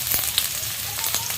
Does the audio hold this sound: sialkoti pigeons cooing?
no